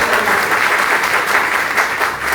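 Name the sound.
audience clapping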